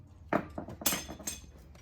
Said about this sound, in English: Let me try to turn it with this and hit it with the hammer at the same time.